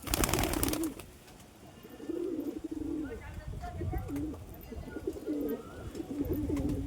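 Pigeons cooing in a loft, with repeated throaty coos rising and falling after a loud opening burst, close by, while people talk intermittently in the background.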